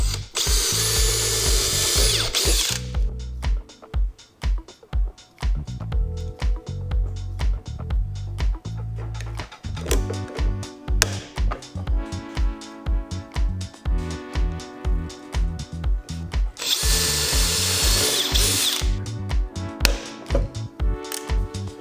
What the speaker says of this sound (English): you will need to drill two 4mm holes on either side of the elbow